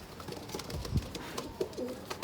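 Soft pigeon coos sound at a distance, low and throaty, a few short murmurs scattered over faint background noise.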